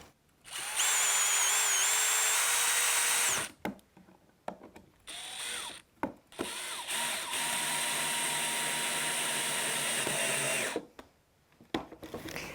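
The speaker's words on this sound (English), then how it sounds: "we're going to go ahead and add this screw in" A power drill whines loudly in long bursts, its pitch dropping under load as the screw drives into wood, with brief pauses between.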